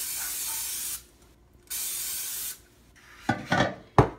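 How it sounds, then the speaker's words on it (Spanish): Cooking oil spray being sprayed into a cake pan: two steady hissing bursts of about a second each, followed by a few short clattering knocks, close and clear with no speech. "vamos a ponerle aceite en spray al molde"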